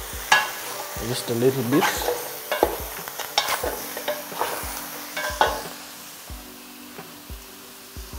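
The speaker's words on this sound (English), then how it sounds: "So I'm going to stir it a bit," A spoon stirs kienyeji chicken boiling with ginger and garlic in a pot, giving irregular scraping knocks against the metal over a soft bubbling sizzle, while a voice speaks briefly.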